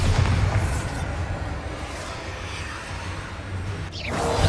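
Explosive blast from the Bombarda spell in the Hogwarts Legacy video game, a loud sustained rumbling boom with dense low-end roar that stays strong throughout, ending in a sharp burst.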